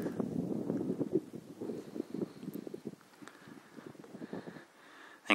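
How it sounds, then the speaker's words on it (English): Wind gusts across a mountain ridge on the Appalachian Trail near Iron Mountain Gap, Tennessee, with steady buffeting and rumbling microphone noise that rises and falls throughout. "there's too much wind up here"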